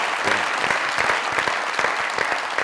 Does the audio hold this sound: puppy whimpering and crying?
no